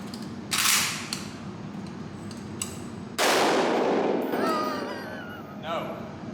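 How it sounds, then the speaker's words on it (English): An AK rifle fitted with an add-on attachment fires a few sharp, loud shots spaced apart, each followed by a clanging ring. Later a person speaks briefly. "Let's see if it actually stays on for the first shots."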